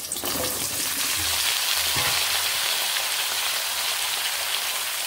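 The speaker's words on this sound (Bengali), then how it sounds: "মাছ ভাজার যে তেলগুলো রয়েছে সেখানে এবার আমি আলুগুলোকে ছাড়ছি।" Potatoes dropped into hot oil previously used for frying fish, giving a loud, steady broadband sizzle with a dense rain-like crackle that holds evenly throughout.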